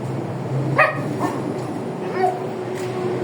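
Dogs in a garage give a few short barks and yips, close and fairly loud, with light movement noise between them.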